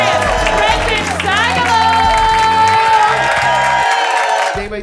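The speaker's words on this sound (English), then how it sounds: "Start clapping right now." A comedy club audience claps and cheers loudly over a thumping music bed, the applause steady before fading away near the end.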